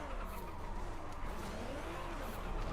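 A drift van in Forza Horizon 5 drones with a steady engine roar and ongoing tire skid noise, continuous and moderately loud throughout.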